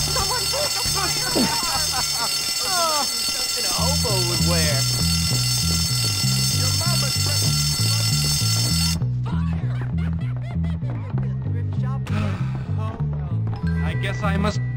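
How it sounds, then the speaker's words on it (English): A school fire alarm in the video game Bully rings continuously in a loud pulsing buzz, with character voices talking and a short laugh over it. "Someone broke the fire alarm."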